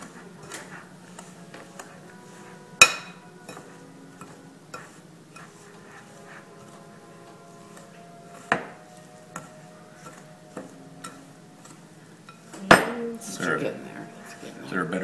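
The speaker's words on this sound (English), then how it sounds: "The stirring continues." A spoon stirs cookie dough in a bowl with quiet, steady scraping, broken by a few sharp clinks and knocks against the bowl, one louder clatter near the end.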